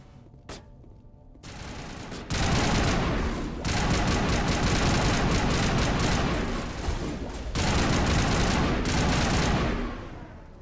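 Sustained bursts of automatic weapon fire from a Mass Effect battle, loud and near, broken by brief pauses between long volleys, with little talk.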